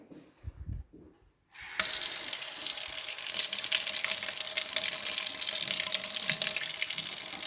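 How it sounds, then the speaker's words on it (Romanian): Cold tap water gushes in a strong, steady stream onto a test tube being cooled in a chemistry lab. It starts suddenly after a couple of seconds of faint handling noise and stays loud and close. "O răcim sub jet de apă"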